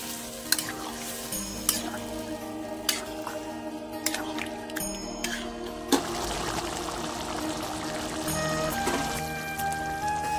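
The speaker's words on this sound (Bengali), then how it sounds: "এখন আমি এতে জল দিয়ে দেবো" A jackfruit curry cooks in a pan with steady sizzling and sharp, regular stirring knocks, then water is poured in partway through and a fuller, hissing boil continues to the end.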